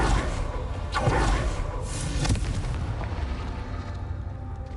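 Fire spell explosions from the Confringo curse in Hogwarts Legacy, heard as a dense, rumbling stream of booming blasts with a couple of sharper bursts, steady and fairly loud with no one talking.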